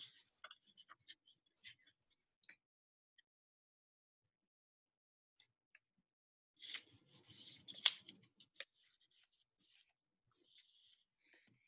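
Paper is folded and creased for a children's book-making craft, giving quiet, sparse crinkles and clicks, with a louder rustling flurry partway through.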